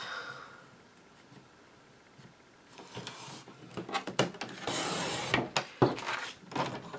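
A paper trimmer slices card stock into a mat, giving scraping, rubbing strokes and a sharp clack or two nearby after a quiet start, with no talking.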